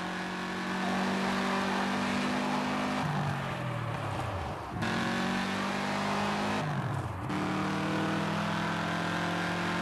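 A car engine drives in the Gear.Club racing video game during a three-lap test run, with a steady loud engine drone that drops twice as the revs fall and pitch sweeps down, then climbs again.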